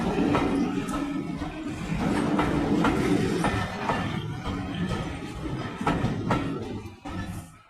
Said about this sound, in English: R37 is carrying the Philip Pullman coaches.